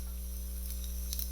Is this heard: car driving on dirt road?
no